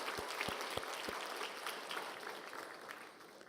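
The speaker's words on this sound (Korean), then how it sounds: "우리 박수로 한번 격려해 주십시오." A church congregation applauding during a service, soft and fairly distant clapping with a few sharper individual claps near the start, gradually fading toward the end.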